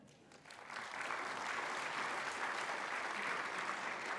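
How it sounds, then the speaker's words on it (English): An audience at a United Nations Day of Vesak celebration applauds after a session; clapping swells within the first second into a sustained, even wash of applause heard at moderate distance. "So can I have a big applause for this session?"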